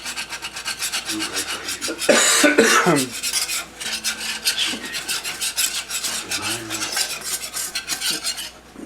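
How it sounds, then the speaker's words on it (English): A utensil scrapes and stirs a flour-and-fat roux around a hot pan for chicken fried steak gravy, with steady rhythmic rasping and scraping, close and clear, and one louder scrape partway through. "keep stirring that flour and fat around"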